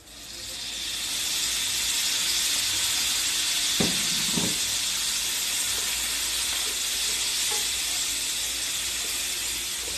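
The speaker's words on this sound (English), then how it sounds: "Garlic is starting to cook. We will now put the shrimp." Shrimp and garlic sizzling hard in a hot pan, a loud continuous hiss that swells in and holds steady, with a couple of brief clacks of a utensil partway through.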